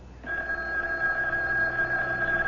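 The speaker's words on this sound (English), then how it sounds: "don't you answer the phone?" A telephone rings in a radio drama sound effect, one steady bright ring tone starting abruptly and sustaining clearly over a faint background hum.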